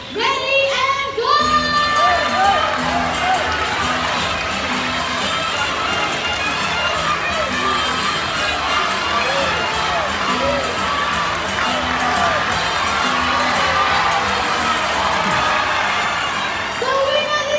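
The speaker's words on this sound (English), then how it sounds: "Zonda supporters, you have to cheer much louder" Audience at the High Flyers bird show at Jurong Bird Park cheering loudly for a team during a fruit game, a sustained roar of mixed shouts and children's voices with music underneath.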